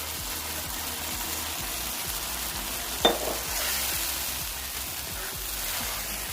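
Yogurt-marinated chicken for biryani sizzles loudly in hot oil, with a steady, even frying hiss and regular scraping stirs throughout, plus one sharp clink partway through.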